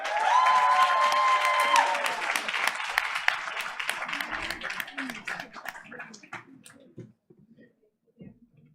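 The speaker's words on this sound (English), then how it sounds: "let's keep that applause going" Audience applause at a board of education meeting, a dense wash of clapping that runs strong for several seconds and then thins into scattered individual claps as it fades, with a brief voice over the start.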